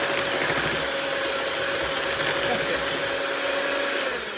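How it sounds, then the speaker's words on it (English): A KitchenAid hand mixer runs with a continuous high motor whir and a steady hum, close and loud, tapering slightly at the end. "I have a KitchenAid hand mixer that I really like"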